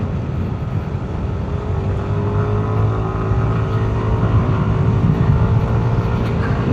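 A Yamaha NMax V3 scooter running Liqui Moly oil climbs a hill, its engine droning loud and close in a steady, even pull that rises slightly in pitch as it works uphill, with no voices.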